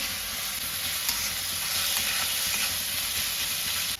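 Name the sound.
ginger frying in a pan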